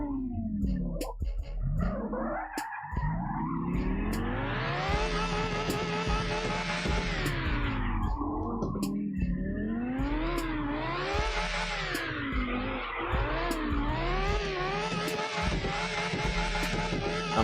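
A car drifting in CarX Drift Racing Online, with loud sustained tire squeal and engine tones that rise and fall in long sweeping arcs and stay continuous and close throughout.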